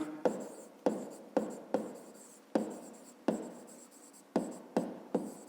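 Pen or pencil writing by hand while working a fifth-grade maths exercise, in rhythmic scratchy strokes with about ten distinct bursts, close and fairly quiet, with no talking.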